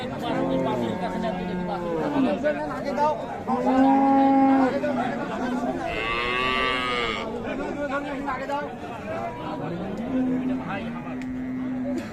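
Young Friesian cows with calves at the Raniganj cattle market moo several times, with long, low calls spread across the scene and some louder and closer than others, over steady crowd chatter.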